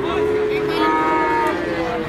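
Cattle low in a long, close moo over the steady murmur of a busy Monday livestock market in Basuki.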